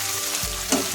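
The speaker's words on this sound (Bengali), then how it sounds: "আমি আবার ভালো করে নেড়ে নিচ্ছি" Ash gourd mustard curry being stirred in a frying pan, a brief close sizzle with a single scrape of the spatula partway through.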